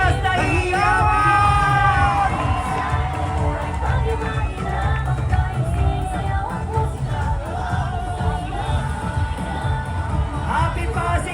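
A large crowd cheers and yells loudly at the Pasig Day civic parade in Pasig City, with steady dense shouting and whoops filling the street from start to finish.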